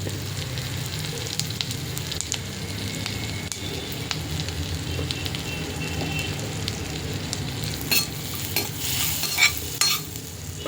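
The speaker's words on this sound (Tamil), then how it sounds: "இப்போது வெண்ணெய் உருகுது, நம்ம ஜீரகத்தை தாளிக்க போட்டுக்கலாம்." Cumin seeds sizzle steadily in melted butter, a dense crackling hiss with a few sharper spatters and stirring scrapes near the end.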